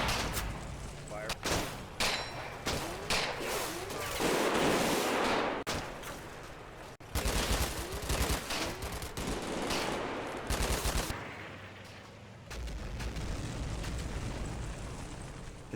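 Artillery and gunfire from the World War II game Combat Mission Fortress Italy: repeated loud blasts and crackling bursts of shots, some close and sharp, others rolling, with brief gaps of quieter rumble between volleys.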